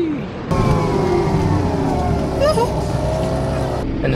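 Bus engine driving with a steady low drone and rising gear whine, a loud close hum from inside the vehicle that continues under a voice speaking.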